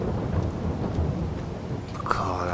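Thunder rolls through a steady downpour in the Farming Simulator 22 game, a continuous loud rumble with rain hiss throughout and a sharper crack near the end.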